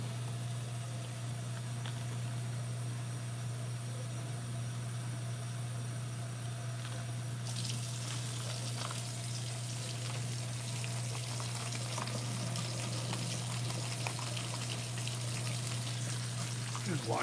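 Cold tap water runs steadily while mushrooms are washed in a home kitchen, a continuous broadband rush that brightens and grows louder partway through.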